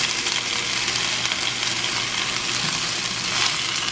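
Onion and shiitake mushrooms frying in oil in a pan over a modest flame, making a dense, continuous, close-up sizzle that holds at an even loudness throughout with no talking.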